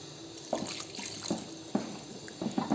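Tamarind juice is poured into a pot of bottle gourd curry, giving soft splashing and gurgling with a few sharper liquid plops over a quiet background.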